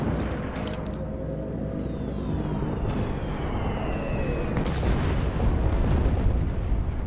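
A tank firing in Battlefield 1943 on PS3, with continuous heavy booming and rumbling blasts amid dense battlefield noise and a whistling projectile streak, loud and sustained throughout.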